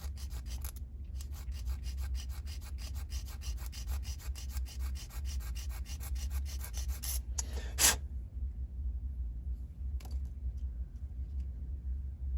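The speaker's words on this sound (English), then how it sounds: "How do we handle that? With a little sanding stick, of course." Steady, continuous rubbing and rasping of a small sanding stick against a hard frame of an M422 Mighty Mite scale model, close up, with a low rumble underneath and a brief clatter near the end.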